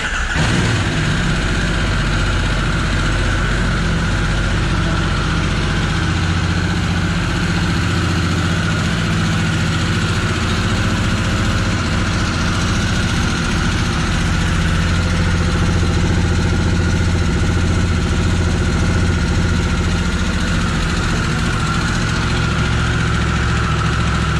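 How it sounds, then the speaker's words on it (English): A Harley-Davidson Sportster S idles steadily and loudly for the whole stretch, a constant low rumbling exhaust with no voices. "let's turn on the ignition and let's hear the exhaust note"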